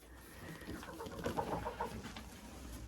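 Hens settling in their nesting boxes give low, quiet clucks and murmurs, a soft steady chatter heard close up with no talk.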